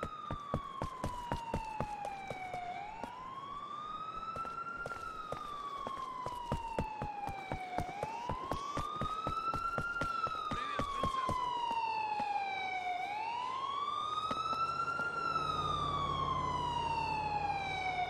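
A police car siren in Grand Theft Auto 4 wails continuously, rising and falling in long sweeping cycles, loud and close, over a steady rumble of engine and road noise with rapid clicking in the background.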